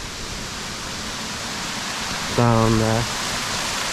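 A river in Elan Valley, Wales, flows with a steady, even rushing hiss, and a brief spoken phrase rises over the water toward the end.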